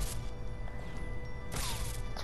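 Cutting Edge item sound from the Fortnite item shop: a steady, dense electronic shimmer runs throughout, with a sharper bright swell and crash-like burst in the second half, heard alone.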